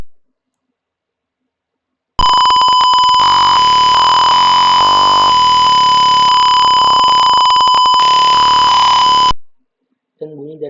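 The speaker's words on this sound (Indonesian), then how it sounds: "Dan bunyi dari buzzer akan terus berjalan." A loud, steady electronic buzzer from an Arduino car proximity-sensor circuit drones for about seven seconds with a harsh tonal whine, starting and stopping abruptly amid silence.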